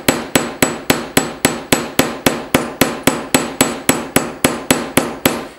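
Metal for jewellery being hammered, a steady run of about eighteen sharp, ringing blows at an even brisk rhythm, loud and close with no voices.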